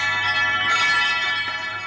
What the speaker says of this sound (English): Making wind chimes has not been a lifetime of devotion for Stump Holloway.